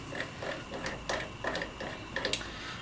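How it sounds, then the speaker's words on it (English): Wrench turning a puller bolt on a Honda CB175 starter clutch, a close rhythmic series of metallic ratchet clicks repeating about twice a second, quiet and steady with no talking. "after a little bit of wrenching, that'll come right off"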